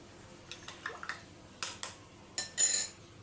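A spoon clinks and scrapes against a bowl while baking powder is mixed into pancake batter, with several short, fairly close metallic taps and a longer scraping swirl near the end, no voices.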